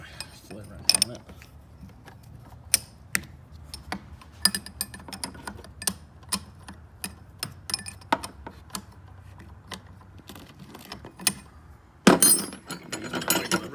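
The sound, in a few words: wrench tightening a hydroboost line fitting on a Duramax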